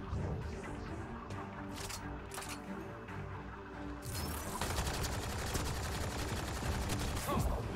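Rifle gunfire in Mass Effect: Andromeda, rapid bursts of shots crackling in a dense fusillade that grows louder and more continuous in the second half, with game ambience beneath.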